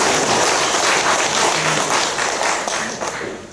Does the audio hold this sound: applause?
yes